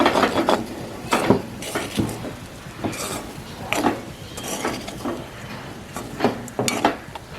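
A spoon stirs plantain curry in a pan with irregular metallic scrapes and clinks against the pan, with faint sizzling underneath over several seconds, close and alone.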